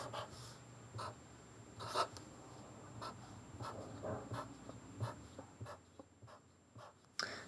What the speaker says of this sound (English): I'm going to start by writing a number line on my paper.